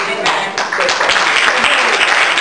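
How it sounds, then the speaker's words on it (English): Audience applause at a community speech event, dense steady clapping that fills the whole stretch, fairly loud and close, with a faint voice mixed in. "you're really timid to clap at that"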